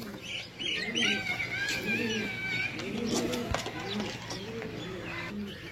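Several racing pigeons of the Jeth-season flying breed coo together in repeated soft, rolling phrases, close and fairly loud, with birds chirping over them at a sale.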